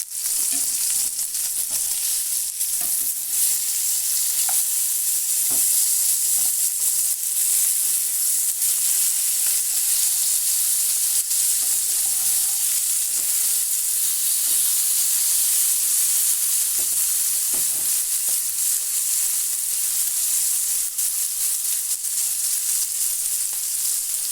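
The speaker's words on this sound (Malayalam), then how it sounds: "ഇവിടെ ഞാൻ മീൻ വറുക്കാനായിട്ട് വെച്ച് ഇപ്പോൾ ഒരു സൈഡ് മുരുവിട്ടുണ്ട്" Fish frying in a pan, a continuous loud, dense sizzle and hiss of hot oil that holds steady throughout with scattered small pops, and no speech.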